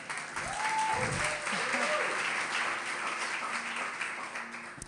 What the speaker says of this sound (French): Tu peux acclamer pour toi